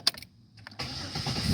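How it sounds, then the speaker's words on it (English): A Chevrolet Impala engine cranks briefly after a key jingle and catches, settling into a steady, fairly close idle that stays strong to the end with no talking. "So this is going to be the first startup after it bled off all that fuel pressure."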